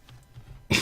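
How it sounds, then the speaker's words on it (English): A single short, loud cough bursts out abruptly at the end after a near-silent stretch. "sorry for the coughing and sneezing"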